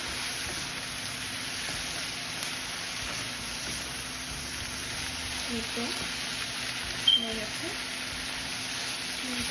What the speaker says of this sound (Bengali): আবারও সব কিছুকে একসাথে ভেজে নিচ্ছি